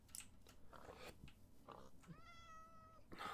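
A cat meows in the game Minecraft, one clear stretched call with a rising then falling pitch, heard up close over faint ambient game sound.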